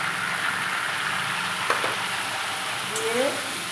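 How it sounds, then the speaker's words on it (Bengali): Potatoes frying in a pan with salt and turmeric for aloo dum, a steady close sizzle with a few light stirring clinks. "15-20 মিনিট লাল লাল করে ভাজতে হবে।"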